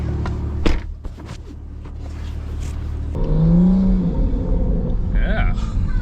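A sports car engine and exhaust while driving, either an A90 Supra or S550 Mustang GT, with a low rumble heard from inside that rises as the car accelerates, under people talking.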